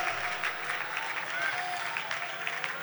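A church congregation at a Kerala convention claps hands in praise, a steady sustained round of applause from a large crowd, fairly distant, with a voice faintly audible underneath.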